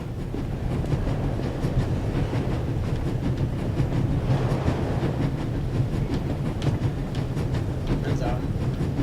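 A train in the video game The Raven Remastered rushes along at full speed, a loud steady rumble with rhythmic clickety-clack from the wheels, continuous and close throughout.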